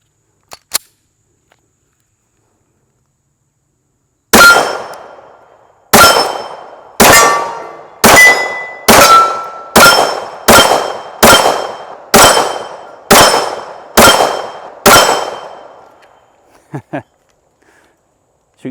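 A Taurus PT 24/7 .45 pistol fires a full magazine of cheap factory full metal jacket ammo at close range: about twelve loud, sharp shots in a steady rhythm, each with a short ringing decay, followed by faint clinks.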